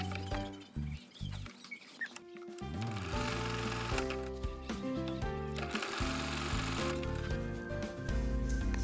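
A domestic sewing machine stitches a foldable eco bag, giving a fast mechanical patter in bursts that become steady over music.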